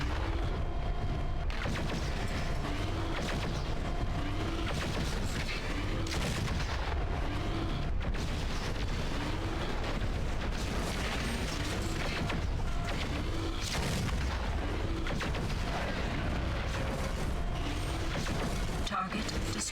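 MechWarrior 4 mech weapons pound a communications building, with dense, continuous mechanical clanking and heavy booming blasts layered throughout, loud and close with no letup.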